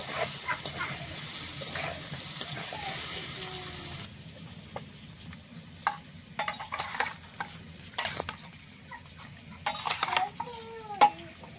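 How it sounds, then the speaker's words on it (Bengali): A metal spatula mixes spiced meat with ground cumin in a cooking pan, giving soft sizzling under a series of scraping, clinking strokes that grow more frequent and sharper toward the end. "আর আজকে আর হাত দিইনি, এই খুন্তি দিয়েই মাখাচ্ছি।"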